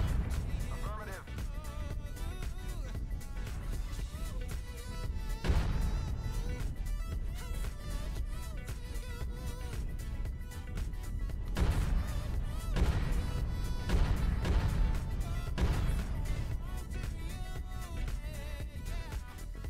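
Mech weapons fire in a MechWarrior Online melee battle as a dense, continuous wall of booming blasts and crashing impacts with occasional voices.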